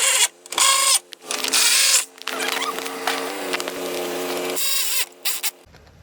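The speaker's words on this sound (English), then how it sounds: "go ahead and tighten up these bolts" Power tool or ratchet tightening bolts on a 2004 Toyota Sienna engine during a timing job, in loud buzzing whirring bursts with short pauses between them, close to the microphone.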